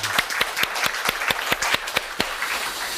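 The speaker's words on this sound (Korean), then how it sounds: "찬양 받으신 하나님께 감사와 영광 박수 올려드리겠습니다." Congregation in a church applauding in unison, a steady rhythm of about a dozen sharp, evenly spaced claps over a soft background of scattered clapping, no voices.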